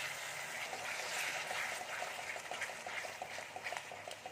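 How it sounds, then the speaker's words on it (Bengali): Onion and tomato paste for chicken kosa fry in a pan, giving a soft, steady sizzle with faint bubbling pops that continue evenly throughout. "এবার দিয়ে দেবো টমেটো পেস্ট করে রেখেছিলাম, টমেটো পেস্টটা দিয়ে দিলাম।"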